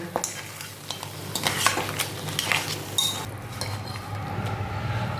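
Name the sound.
stirring crab pepper masala after sprinkling coriander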